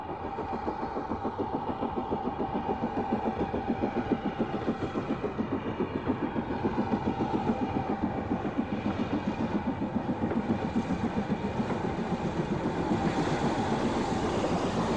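A BR Standard Class 4 steam locomotive, ex-Western Region engine 75027, hauls a freight train on the Bluebell Railway, giving a steady rhythmic chuffing and clanking rumble that carries loud and continuous throughout.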